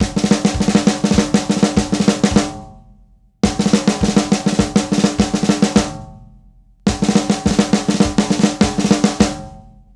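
Herta fill played on a drum set, repeated three times as quick rolling tom and snare strokes with cymbal wash, each run ending in a decaying ring before a short gap.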